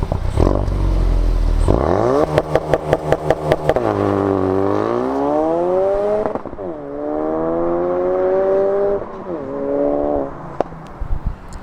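A Ford Focus RS MK3 launches hard on a 0-60 run, its engine revving up through rising gear pulls with crackling pops and brief shift breaks, loud and close, then easing off near the end.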